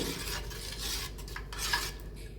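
A spoon stirs a homemade bath soap mixture made with coconut oil, giving soft scraping and light clinks against the container, close and quiet, with no talking.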